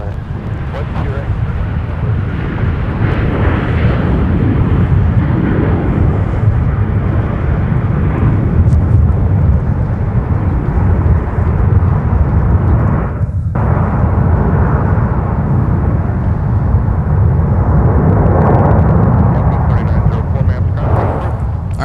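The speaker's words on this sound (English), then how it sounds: "let's take another look at our arrival from Savannah with the Boeing 717" A Boeing 717 arriving from Savannah at Minneapolis–St. Paul airport, a loud, continuous low jet roar that holds steady throughout, heard outdoors at close range.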